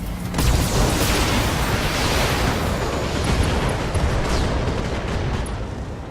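Dense, continuous barrage of mech weapon fire and booming ammo explosions in the video game Battletech, loud and roaring throughout, with no pauses or voices.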